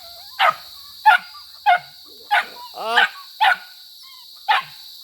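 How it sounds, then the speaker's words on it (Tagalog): A dog barks in short, separate bursts, about seven in a row at an uneven pace, with one whiny, yelping bark among them, close by. "Kulit nito mga aso na ito."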